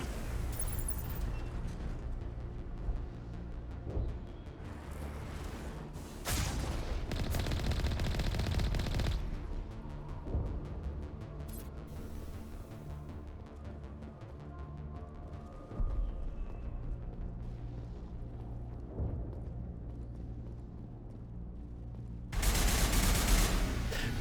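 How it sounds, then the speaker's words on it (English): Gunfire in Mass Effect, heard as repeated bursts of automatic weapon fire separated by quieter stretches of low game ambience and hum. The bursts sound fairly distant and muffled and go on for more than twenty seconds with no talking. "There's one more guy firing at me from somewhere."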